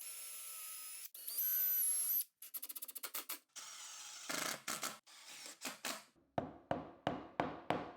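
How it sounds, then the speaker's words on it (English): Power drill boring pilot holes in wood: bursts of drilling with whining motor runs, then a series of short rhythmic pulses and trigger stops, fairly close and without talk. "Now I'm going to drill pilot holes so I don't break the screws."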